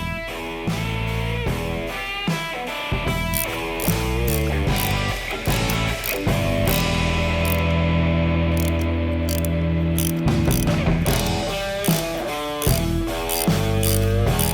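A ratchet tightens the bolt on the shift linkage of a Milwaukee 8 Harley-Davidson touring bike during a belt drive installation, with rapid, repeated clicking strokes close up and continuing throughout.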